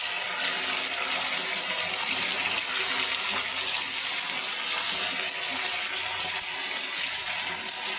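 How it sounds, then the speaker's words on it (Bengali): Running tap water rushes steadily into a bowl as it is rinsed while making chilli chicken, a continuous close hiss with no talk over it. "বাটিটা ধুয়ে দিয়ে দিলাম।"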